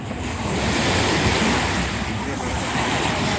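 Ocean waves roll onto a swimmable resort beach of fine powdery sand in the Riviera Maya, a steady loud wash of surf with some wind noise across the microphone, no voices.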